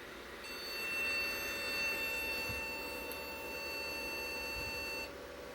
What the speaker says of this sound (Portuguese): O bip não estava, eu coloquei